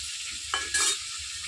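Raw potatoes frying in a wok with saffron for kacchi biryani, a soft steady sizzle with two brief scraping stirs near the middle, close and fairly quiet, no talking.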